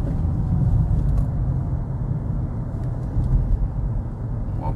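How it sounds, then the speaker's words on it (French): A 2020 Peugeot e-208 electric car accelerating on the road: a steady low rumble of tyres and road noise from inside the cabin, with no engine note, fairly loud and even throughout. "Voilà, on va essayer d'accélérer un petit peu."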